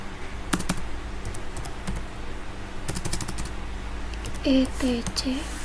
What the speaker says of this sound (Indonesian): Kita ketik cat spasi slash etc